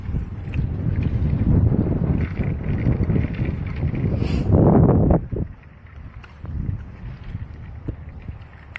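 Strong wind buffets the microphone with a heavy low rumble that gusts louder, then eases off toward the end.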